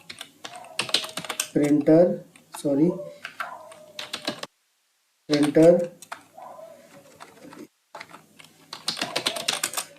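Computer keyboard typing while product names are entered into an Excel spreadsheet, with clicky keystrokes in bursts, close up, heard alongside someone talking.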